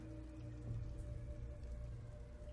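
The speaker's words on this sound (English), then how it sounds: "cold rain searing across empty fields" Cold rain falls across empty fields on a late-October Samhain night in ancient Ireland, a faint, steady, even patter with no voices.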